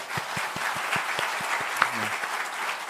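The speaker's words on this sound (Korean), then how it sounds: "우리 한번 격려의 박수로." A crowd at a church revival service applauds with steady, scattered clapping throughout, a brief voice rising faintly beneath the claps.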